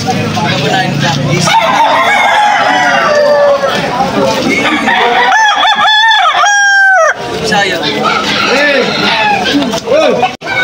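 Gamecock roosters and young stags crow loudly and repeatedly at a busy Sunday market in Malolos, Bulacan, with clucking and nearby chatter among buyers and sellers throughout.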